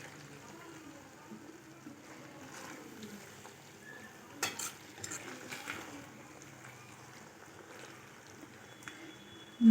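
A spoon stirs creamy pasta with melted cheese in a pan, producing quiet, sparse scrapes and light clinks that cluster midway over a faint low background.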